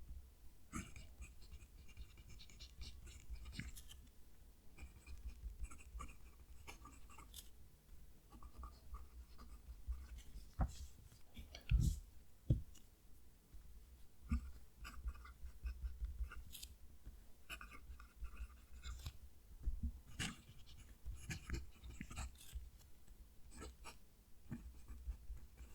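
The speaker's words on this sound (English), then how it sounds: "Going to move the mic down to the page so you can hear the pen write." A Click Yen fountain pen writing on paper, heard very close, a continuous soft scratchy nib sound in uneven strokes with occasional louder taps and scrapes.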